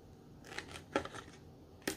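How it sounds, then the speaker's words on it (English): A few crunchy scissor snips through thick material, three or four short cuts close up in a quiet room. "I'm just going to take my scissors and I'm going to try to help it."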